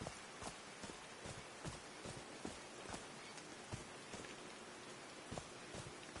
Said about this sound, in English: These drops of rain are so refreshing.